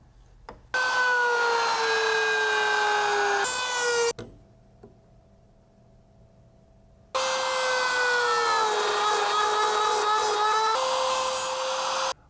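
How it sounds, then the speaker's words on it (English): A wood router cuts through wood for a blind dovetail jig, making two long, loud whining bursts separated by a quiet pause. The pitch drops slightly as the bit bites into the wood. "Well, I got it all routed,"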